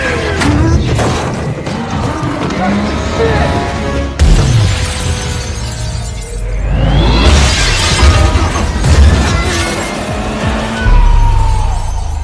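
A sports car tears away in a chase scene from a Fast & Furious-style film, its engine roaring with screeching tires, shattering crashes and loud impacts layered throughout, continuous and close.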